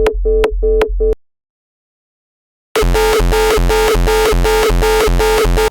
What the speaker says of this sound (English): For this kick, I'm using 0 square, which is one of the more aggressive distortion modes inside Serum 2.